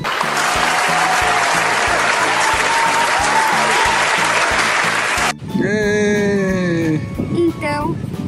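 A burst of loud, dense clapping for about five seconds, then it cuts off and a high, bleating voice-like sound follows.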